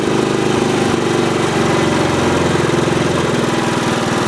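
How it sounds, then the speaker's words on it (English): A Honda riding mower engine runs at a steady, loud, close idle, a continuous throbbing drone with no voices over it. "I'll give you a shot of the engine actually running right now"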